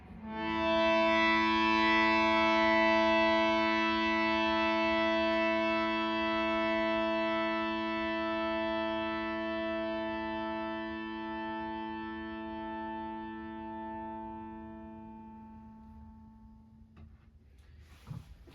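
A teak-edition Bhava Classic harmonium holds a single rich reed chord that sustains steadily for about seventeen seconds, then fades and stops. It plays alone, close and clear.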